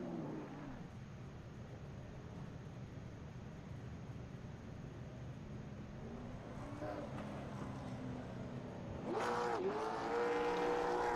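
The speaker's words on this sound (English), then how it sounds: "He's going to try to get some burnouts done for the fans out here" Late model stock car doing burnouts for the fans after a season championship race: a steady distant engine drone and crowd ambience for most of the stretch, then a louder near rev with a rising whine toward the end.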